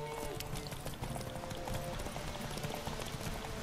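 A horse galloping in The Witcher 3, its hooves clopping in a quick steady rhythm throughout, with faint game sounds underneath.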